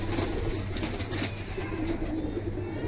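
Andhra breed pigeons cooing softly in a loft, low murmuring coos repeating over a steady background hum, with no clear voices.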